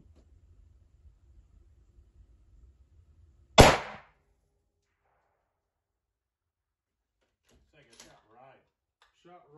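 A single sharp rifle report ringing out outdoors at a long-range shoot aimed at a pop can at 847 yards, loud and abrupt with a short decaying tail, followed by quiet and brief talk.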